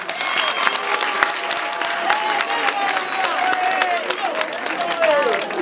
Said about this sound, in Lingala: Bobeta maboko di.